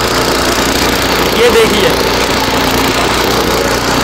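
A homemade mini tractor engine runs loud and close with a steady rough chugging drone, while someone speaks briefly over it.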